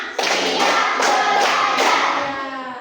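A class of children claps together in a counted rhythm in an Indonesian classroom. A few strong, accented bursts of claps ring out close and loud, with chanting voices underneath.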